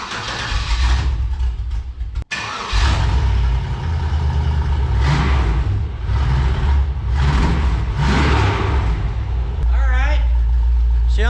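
A 1999 Chevrolet S-10 pickup with an LS swap engine and quiet mufflers cranks, fires up and idles with a deep, steady rumble, revving up several times, while a person talks nearby.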